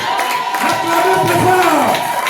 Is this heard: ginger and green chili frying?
no